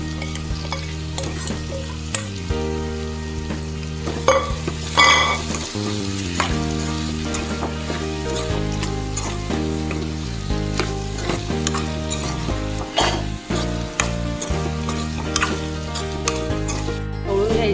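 Prawns seasoned with chili, salt and lemon fry in a hot pan with a steady, loud sizzle and spatter, stirred now and then with scraping strokes, and no voices heard.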